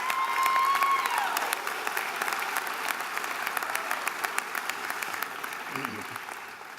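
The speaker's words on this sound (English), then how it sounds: "let's please have a big round of applause for the families and loved ones of the graduates" Broad, sustained applause from a graduation ceremony crowd honoring graduates' families, a full steady wash of clapping that gradually thins toward the end, with a brief voice near the close.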